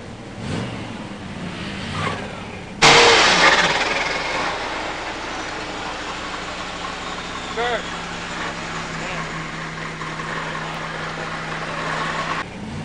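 A 1970 Dodge Challenger T/A 340 six-pack four-speed at a pure stock drag race, a loud engine burst that settles into a sustained roar with crowd and track noise, and a voice talking faintly in the background.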